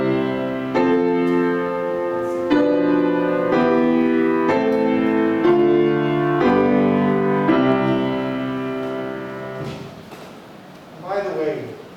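A harmonic sequence played as full chords on an instrument in a music theory class, a series of sustained block chords changing roughly every second, steady and close, fading out before a brief voice at the end.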